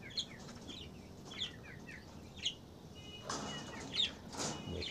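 Parrots at a small mini zoo being fed, giving scattered short chirps and squawks over a quiet background, fairly near, with a brief flutter of movement toward the end.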